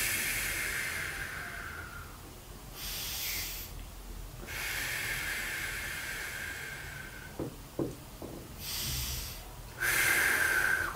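Slow, audible breathing during a lower back and sciatica stretching exercise, long hissing inhales and exhales alternating with quiet pauses, close and steady with a few short sniffs.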